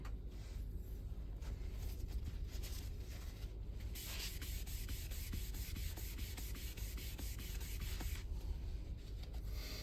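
A 5000 grit sharpening stone is flattened by rubbing it on a granite block, making continuous gritty scraping strokes with a quick back-and-forth rhythm, soft and close up with no talking.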